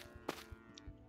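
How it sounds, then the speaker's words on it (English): Brief faint lowing of cows in the game Craftopia, soft and distant amid light thumps, with no talk. "I hear moo cows."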